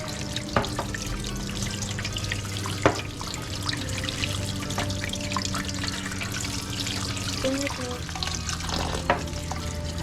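Fruit being washed under a running tap, a steady stream of water with small splashes and clinks of handling, continuous and close, with faint talk in the background.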